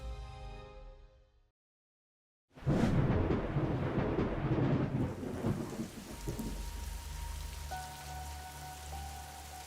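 A monsoon thunderstorm in India: a loud crack of thunder breaks after a brief silence and rolls into dense, steady rainfall, with a low sustained tone appearing beneath the rain toward the end.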